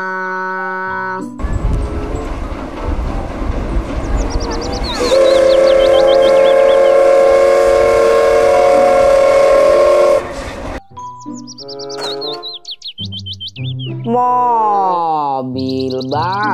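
Thomas toy train sound effect: a loud, steady rumbling train run with a sustained whistle-like horn tone over it for several seconds, between short bursts of synthetic voice-like chimes.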